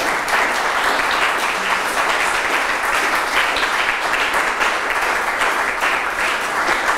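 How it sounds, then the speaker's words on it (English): Audience applause after a tech talk, a loud, dense, even round of clapping that carries on steadily for several seconds without talk. "Are there any questions before the clap?"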